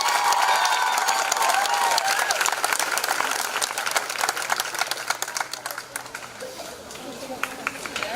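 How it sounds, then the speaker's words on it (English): A crowd at a high school graduation ceremony claps and cheers loudly, the applause thinning into scattered claps toward the end. "let's give them a round of applause."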